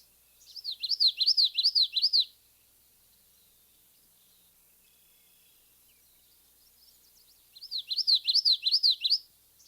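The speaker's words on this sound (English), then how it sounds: "The common yellowthroat, it's our cute little warbler with the bandit mask, and it's going to be singing that witchy, witchy, witchy, witch" A common yellowthroat warbler in wetland shrubs gives its rolling witchity-witchity song twice, two bright repeated phrases of about a second and a half each, separated by a long quiet gap, fairly close and clear.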